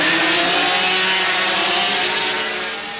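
Road racing motorcycle engines scream past on a twisty course, a loud high-pitched sustained whine that fades slightly toward the end.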